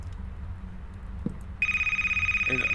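A telephone starts ringing in a video game, a steady electronic ring tone that comes in partway through and keeps going loud over a quiet background.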